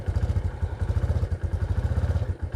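A motorcycle fitted with an SND custom engine block, revving on a test ride, throbs close by with rapid, evenly pulsing low beats that briefly dip before picking back up.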